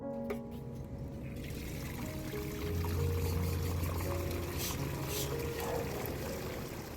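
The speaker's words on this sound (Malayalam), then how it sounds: "പിന്നെ അത് കഴിഞ്ഞിട്ട് വൈകുന്നേരം കൂടി ടെറസിലേക്ക് വരുമ്പോൾ ഞാൻ വെള്ളം ഒഴിച്ചു കൊടുക്കാറുണ്ട് ചെടികൾക്ക്." Water pours onto potted plants on a rooftop terrace in the evening, a steady close splashing and trickling that runs throughout and grows slightly fuller midway.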